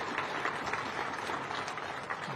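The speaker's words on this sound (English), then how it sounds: "Big round of applause for all of our finalists." Audience applause for small business award finalists at an awards ceremony, a steady, fairly soft wash of clapping with no voices throughout.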